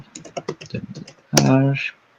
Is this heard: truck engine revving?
no